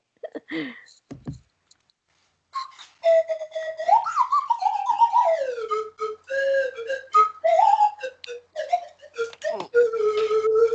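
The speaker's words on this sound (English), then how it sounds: "I'm going to take my slide whistle over to the door and turn my outside light on" A slide whistle played in gliding, swooping tones that rise and fall in pitch, with a short squeaky burst, a pause, then a longer run of warbling slides and quick jumps, close and fairly loud.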